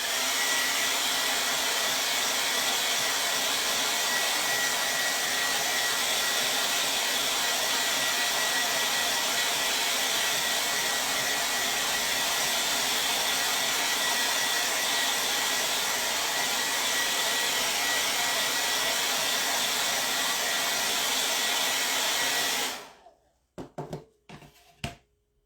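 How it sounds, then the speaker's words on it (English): A hair dryer blows steadily and loudly for over twenty seconds drying a chalk design on a wood plank, then cuts off abruptly, leaving a few faint clicks. "I'm going to dry it for a minute with the blow dryer."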